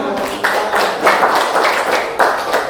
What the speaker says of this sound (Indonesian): Pada kelompok 1 ya yang sudah mempresentasikannya ya, tepuk tangan